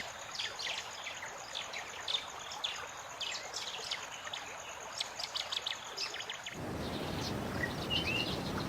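The Orange River flows through dense vegetation as a soft, steady rushing wash, with scattered bird chirps and tweets popping out above it; the water grows louder and fuller near the end.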